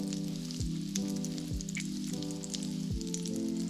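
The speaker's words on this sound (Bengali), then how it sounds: "পাঁচটা ডিম অল্প একটু লবণ দিয়ে এটা ভেজে নেব" Five eggs with a little salt fry in melted butter in a pan for mixed fried rice, a loud steady crackling sizzle throughout with a faint low hum underneath, close by and with no talk.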